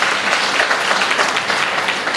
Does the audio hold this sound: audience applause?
yes